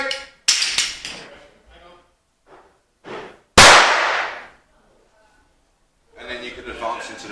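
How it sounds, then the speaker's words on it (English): A 209 primer airsoft grenade goes off indoors with one sharp, loud crack that decays quickly, preceded by an earlier snap of the pin and followed by a pause, with people talking before and after. "So that's a 209 primer grenade."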